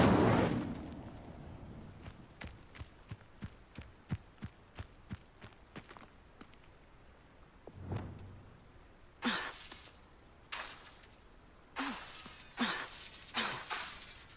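Spell effects from a Hogwarts Legacy game session, with a rapid run of sharp crackling hits followed by several louder bursting whooshes of fiery magic, close and without any voices.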